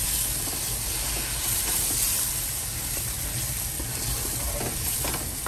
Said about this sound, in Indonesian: Kita tumis sehingga dia kering.